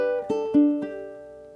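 A few plucked ukulele notes from the last measure of a "Scarborough Fair" phrase, soft and close, each tone ringing briefly before fading into quiet.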